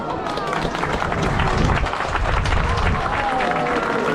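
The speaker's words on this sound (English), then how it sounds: "All right, you're clapping" Audience clapping at African Lion Safari's Parrot Paradise fills a short stretch with a steady, dense patter of many hands.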